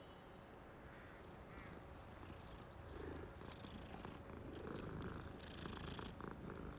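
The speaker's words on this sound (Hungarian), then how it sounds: "Csak nem egy cica?" A cat in Hogwarts Legacy purrs softly and continuously, a low, steady rumble that is very quiet and close, with no voices over it.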